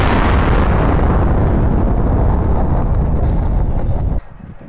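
A video game nuke explosion: a loud, sustained explosive roar rumbles for several seconds, thick with low booming noise, then cuts off abruptly to a quieter background.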